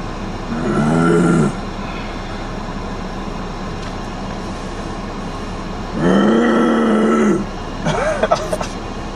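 Deep, groaning roar from a lion at a lion park, two long harmonic bursts several seconds apart, close and loud over a steady background murmur, with a short rougher growl near the end.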